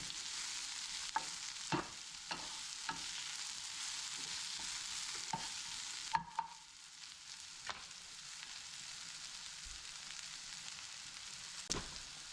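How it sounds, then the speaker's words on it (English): Spinach wilting in a hot pan gives a steady soft sizzle and frying hiss, with a few sharp stirring and utensil clicks scattered through, close and alone without talk. "Let the spinach wilt down."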